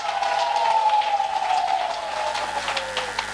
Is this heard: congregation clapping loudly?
yes